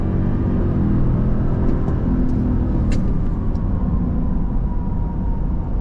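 A 2023 Toyota Sequoia, a three-ton twin-turbo hybrid SUV, accelerates hard at full throttle, its loud steady engine roar and low rumble rising through the run with no talk over it.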